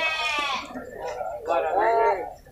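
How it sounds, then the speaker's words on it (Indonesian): A Bengal goat bleats at the Simpang Purwakarta livestock market, giving two drawn-out, wavering bleats close by, one after the other. "Kambing Benggala ya."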